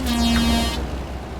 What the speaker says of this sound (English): And it has air horns.